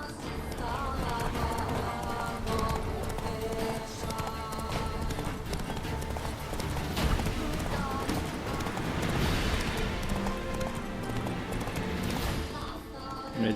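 Horse hooves gallop in a steady, close clip-clop rhythm throughout, the horse Roach in the video game The Witcher 3, with game music and ambient sound layered underneath.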